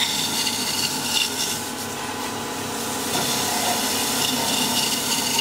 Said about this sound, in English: Pull the chisel towards it. Let the bevel roll, pull the chisel towards it. Nice and gentle, let the chisel roll, use the back cut.